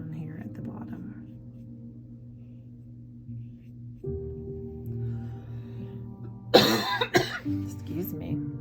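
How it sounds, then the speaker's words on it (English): Over a low steady hum, a person lets out a single harsh, close cough, followed by a short throat-clearing rasp. "I am just coughing today."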